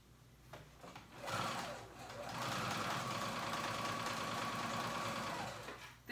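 A sewing machine stitches paper bag pants an eighth of an inch from the edge, starting after a brief pause and then running in one long, steady, close whir until it stops near the end.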